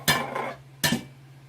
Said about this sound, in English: Putting pintos in there.